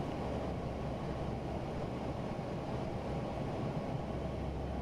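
Rocket engines at two-thirds throttle in Kerbal Space Program give a steady, dense rumbling roar that holds at an even level throughout, with no talk over it.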